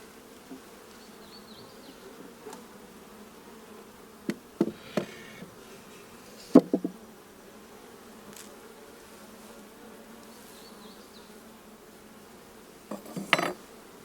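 Honey bees hum in a soft, continuous drone at an open hive while a honey super is added, with scattered light knocks and scrapes of wooden hive parts.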